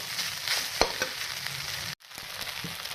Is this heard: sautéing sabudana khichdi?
yes